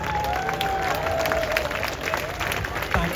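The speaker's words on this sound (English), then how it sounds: "Give yourself a big round of applause." Protest crowd of nature campaigners applauding outdoors, steady dense clapping with some cheering mixed in, a voice or tone drifting over it, continuous throughout.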